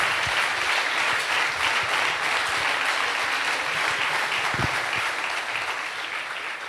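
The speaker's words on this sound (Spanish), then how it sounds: "os pido un aplauso para todas las compañeras y compañeros que hacen que esto sea posible" Loud, sustained audience applause at a Podemos political rally, a dense continuous roar of clapping that stays strong throughout and eases slightly at the end.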